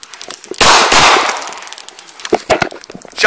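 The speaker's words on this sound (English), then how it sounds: "Shots fired. Shots fired." Police officers fire handguns during a confrontation after a taser is used: a loud, close cluster of gunshot cracks, then several more sharp, scattered reports with a final loud bang.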